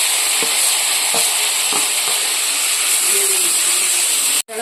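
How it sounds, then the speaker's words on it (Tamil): Shallots and onions sauté with asafoetida in a hot pan, giving a steady close sizzling hiss with a few soft stirring clicks throughout. "சின்ன வெங்காயம், பெரிய வெங்காயம் 2த்தையும் போட்டு ஒரு 2 நிமிஷம் வதக்கலாம்."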